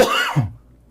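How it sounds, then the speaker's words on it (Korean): One short, close cough comes right after a brief vocal sound, then quiet. "왜 기침을"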